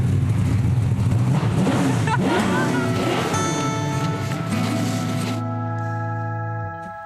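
A big engine roars loud and steady, rises and falls with revs, then drops to a lower rumble before cutting off.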